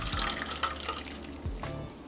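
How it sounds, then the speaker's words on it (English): Hot water draining from a container in a kitchen while making a no-bake cherry blossom cheesecake, a steady close pouring and trickling rush of liquid with small splashes. "drain the hot water."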